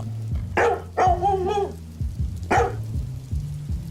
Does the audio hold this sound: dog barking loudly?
yes